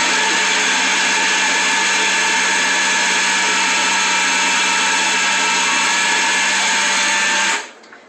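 A lidded kitchen chopper whirs steadily at full speed while chopping onion, a loud continuous motor drone running uninterrupted for about seven and a half seconds before cutting off abruptly.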